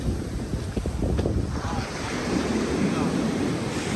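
Ocean waves wash onto the shore of Kauai, Hawaii in a steady broadband roar with heavy wind buffeting the microphone, the surf swelling louder midway and staying close and continuous.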